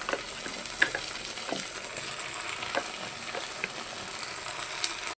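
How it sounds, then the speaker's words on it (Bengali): Steady frying sizzle of onion, garlic and green chili in a pan with occasional stirring clinks and scrapes, close and continuous with no talk. "পেঁয়াজের রসুনটা ভালো করে কাঁচা লঙ্কা হালকা ভাজা ভাজা হয়ে গেছে"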